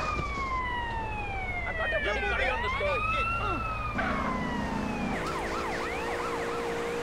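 Police car siren in the video game GTA: San Andreas, wailing and sweeping up and down loudly, with a second overlapping siren and a yelping pattern toward the end, over game noise and background speech.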